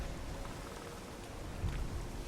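Steady rain hiss conjured by the Mask of Making it Rain in The Witcher 3, a faint, even wash of falling drops that runs without a break and swells slightly near the end.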